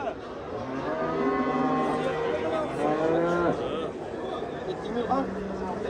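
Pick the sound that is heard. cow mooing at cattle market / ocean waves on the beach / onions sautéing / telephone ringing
cow mooing at cattle market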